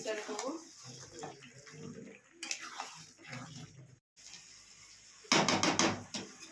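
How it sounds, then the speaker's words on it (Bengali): Hot water is poured over yogurt-marinated mutton in a pressure cooker, a loud splashing rush in the last second or so, after a stretch of people talking with some kitchen clatter. "এবারে গরম জল দিয়ে, গরম জল হয়ে গেছে, মাংস রেডি।"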